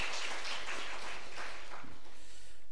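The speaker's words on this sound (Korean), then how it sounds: "박수로 한번 환영하겠습니다." Church congregation applauding in welcome, a steady wash of many hands clapping at moderate distance that fades toward the end, with no talking over it.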